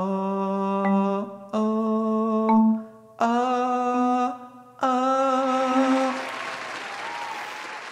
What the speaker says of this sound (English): it's my neighbors. They applaud every time I sing.